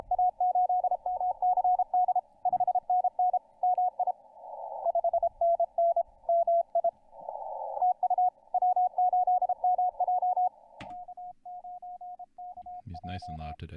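Morse code from amateur radio station W8MJ sending its call sign on the 160 m band, a clear steady tone keyed in quick dits and dahs, fairly loud over a quiet background, with a brief voice at the end.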